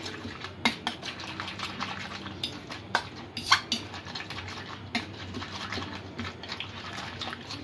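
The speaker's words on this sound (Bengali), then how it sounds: "ভালো করে একটু ফেটিয়ে নিতে হবে ডিমটা" An egg being beaten in a bowl for an oats egg omelette, a rapid run of light clinking taps from the utensil against the bowl that goes on steadily throughout.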